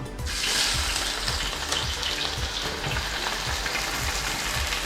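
Onions hitting hot oil already crackling with mustard seeds and fenugreek, giving a steady loud sizzle with fine spattering pops throughout and no talking.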